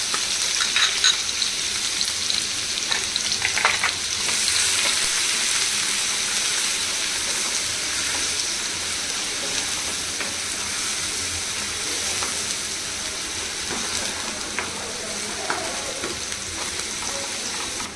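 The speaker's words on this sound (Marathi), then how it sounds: "आता त्याच्यात चिरलेलो कांदो टाकणार" Chopped onion hitting hot oil in a kadhai for a Malvani egg masala fry, sizzling and frying steadily throughout with occasional stirring scrapes, close and continuous with no talk.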